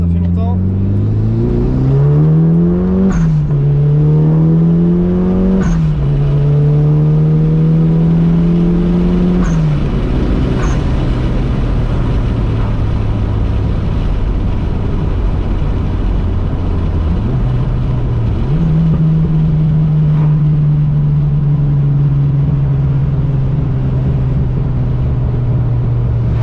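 A Mitsubishi Lancer Evo, just back on its wheels after rear brake and axle work, pulls away hard with a loud, close engine rising through several gear changes, then settles into a steady drone before climbing again.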